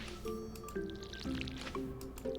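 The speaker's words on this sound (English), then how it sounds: "let's water some crops." Watering crops in a farming video game brings a run of soft squishy drips and liquid splashes in quick, uneven succession, quiet and close with no talk over them.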